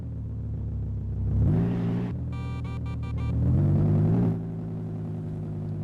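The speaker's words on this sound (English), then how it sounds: "A bit of an exhaust leak as well by the looks of things." A junker car's engine with an exhaust leak idles with a low rumble, then is revved twice in smooth swells that rise and fall back to idle, close and loud, with no voices.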